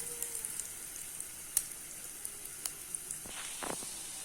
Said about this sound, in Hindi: तकरीबन 2 मिनट हो गए हमें इस तरह से फ्राई करते हुए